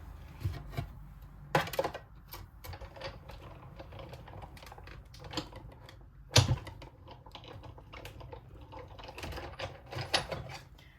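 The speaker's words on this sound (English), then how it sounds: "So I've just got my die cutting machine off to the side here" A die cutting machine feeding white cardstock through on a shared table, producing close clicking, clattering mechanical taps with a few sharper knocks, fairly quiet overall.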